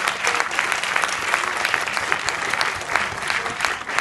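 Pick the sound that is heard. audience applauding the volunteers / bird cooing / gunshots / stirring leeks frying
audience applauding the volunteers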